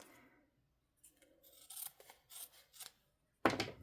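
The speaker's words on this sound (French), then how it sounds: "on va venir découper." Scissors snip through folded fabric for a book pouch, a series of short crisp cuts and rustles close by, ending in one louder sharp snip.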